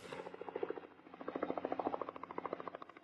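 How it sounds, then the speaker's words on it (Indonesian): A helicopter's rotor beats in quick regular thumps, heard faintly and thinly as though played back from a clip, holding a steady rhythm throughout. "Dia lihat orang lain naik helikopter."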